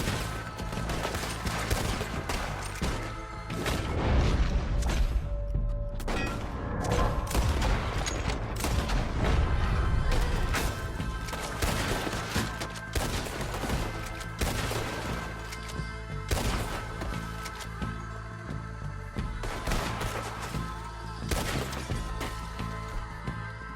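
Gunfire during a shootout with raiders in Red Dead Redemption 2, repeated loud shots and volleys cracking over several seconds amid game ambience and impacts, continuing in irregular bursts throughout.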